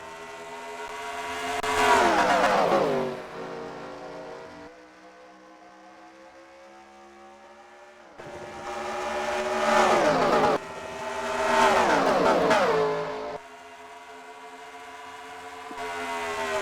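Stock cars racing at Homestead in NASCAR Racing 2003, with loud engines roaring past in repeated waves, each rising and then dropping in pitch as the pack passes, separated by quieter stretches of distant engine drone.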